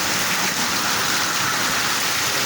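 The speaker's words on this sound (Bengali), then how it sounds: "প্রচুর পরিমাণে বৃষ্টি হচ্ছে।" Heavy rain pours steadily at dawn in Uttara Diabari, Dhaka, a dense, unbroken hiss filling the air with no voices and only a faint low rumble beneath it.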